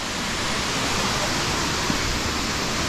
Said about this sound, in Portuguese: Tô apaixonado nessa cachoeira aqui.